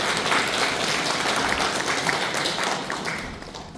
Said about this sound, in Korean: 네, 힘찬 박수 부탁드리겠습니다.